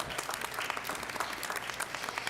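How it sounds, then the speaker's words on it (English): Audience applause at a school board of education meeting, a room of people clapping steadily and moderately loud for the full stretch, dense and even. "If we could give them a little round of applause for their work."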